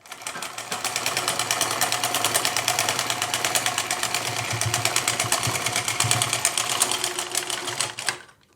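A sewing machine runs a seam along the marked line of a blouse lining in one long, even burst of rapid mechanical clatter, close and steady, then slows and stops near the end.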